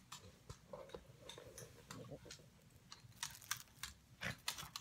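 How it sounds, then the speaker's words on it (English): Plastic wrap is peeled off a young watermelon plant, giving a run of close, crinkly rustles and sharp crackling snaps that grow denser toward the end. "I removed the plastic."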